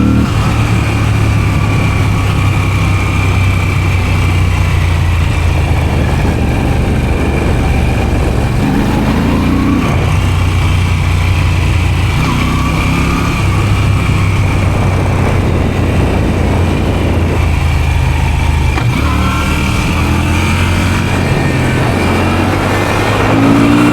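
A motorcycle's engine accelerates hard several times, its revs climbing and falling in repeated surges over a steady road rumble and wind, loud and close throughout with no talking.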